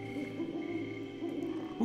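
An owl hoots in the video game Dark Parables 11: Swan Princess and the Dire Tree, a soft sustained call set against a quiet ambient music bed, with no voices.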